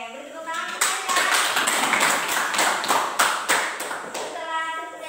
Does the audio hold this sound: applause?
yes